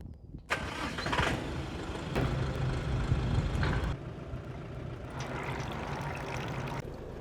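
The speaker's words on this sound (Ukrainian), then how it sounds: "як чуєте, фреза робить дуже тихо" A DTZ FN-1.8 rotary tiller turned by a tractor's power take-off runs quietly, a steady close mechanical drone with tractor engine rumble that swells and eases in a few surges, with no talking.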